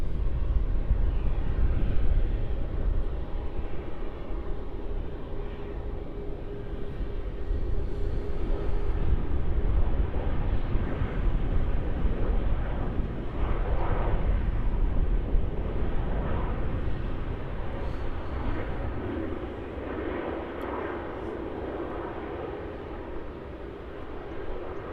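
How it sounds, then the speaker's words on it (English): A Virgin Australia Boeing 737-800 arriving on runway 34 at Melbourne Airport from Adelaide, its engine roar steady and fairly loud throughout, easing slightly toward the end with no talk over it. "This is a Virgin Australia 737-800, which is coming in from Adelaide"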